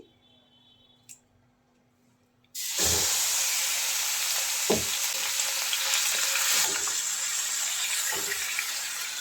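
After a near-silent start, a paste of crushed onion, garlic and green chilli hits hot mustard oil and bursts into a loud, steady sizzle that continues to the end, broken by a few sharp spoon scrapes.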